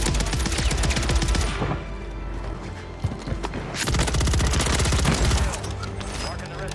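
Dense gunfire in the video game Warzone, sustained bursts of rapid shots that drop briefly and then resume just as loud, forming a continuous volley up close.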